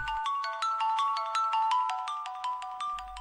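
A phone ringtone plays a quick, repeating electronic melody of bright tones, steady and fairly loud, with no voices over it.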